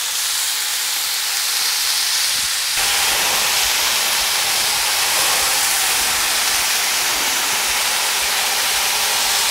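Spiced prawns sizzling hard in a hot pan, a loud continuous hissing spatter close up that suddenly intensifies partway through as they are flipped, then stays strong with no talk.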